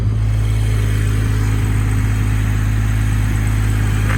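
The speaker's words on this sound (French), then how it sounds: "Montrer le moteur, le célèbre 6 cylindres." A BMW M140i's six-cylinder engine running close by, a loud, steady low drone that holds without pause, with no talking over it.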